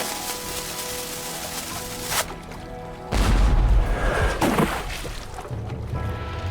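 A cannon fires in the adventure video game Jack Keane 2: The Fire Within, a loud booming blast with a rumbling tail that follows a fizzing fuse and a background music bed.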